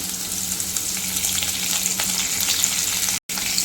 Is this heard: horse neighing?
no